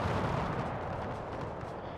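Musket volley fire in the Napoleonic battle video game Napoleon: Total War, a dense, rumbling roar of massed gunshots and distant booms blending into a continuous low wash of battle noise.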